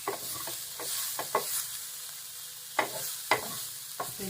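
A protein snack deep roasting dry in a pan, with repeated scraping stirs over a faint steady sizzle, close and moderately loud, no voices.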